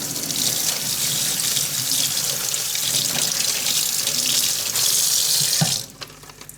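Tap water splashing loudly as an aluminium vice casting is rinsed under it, a dense steady rush that cuts off abruptly near the end, leaving quiet.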